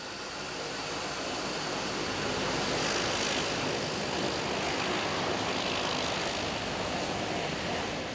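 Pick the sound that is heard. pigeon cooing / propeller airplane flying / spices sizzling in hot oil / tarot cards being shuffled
propeller airplane flying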